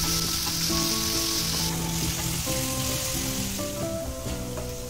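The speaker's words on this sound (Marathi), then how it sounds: "आणि कांदा चांगला लालसर होईपर्यंत भाजून घेऊया आपण" Chopped onion frying in a pan for chicken keema masala, a continuous bright sizzle and crackle with faint stirring scrapes, steady and close with no talking.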